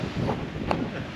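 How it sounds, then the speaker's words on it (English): Coastal wind at Bamburgh, Northumberland, buffets the microphone in a loud, steady rush with no pauses and no talking. "It's windy here."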